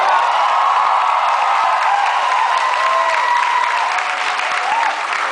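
A live comedy-show audience applauds steadily for several seconds, a dense continuous wash of clapping with a few scattered cheers and voices mixed in, loud and close throughout.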